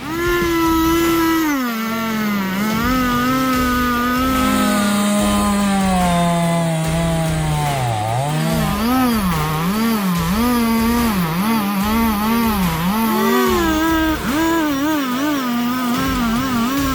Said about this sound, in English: The roar of chainsaws during the felling of large trees